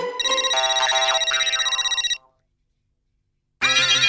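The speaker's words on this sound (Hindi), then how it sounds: "पांडे जी का फोन।" A bright electronic phone ringtone plays a quick melodic pattern for about two seconds, pauses in silence, then starts ringing again, loud and close.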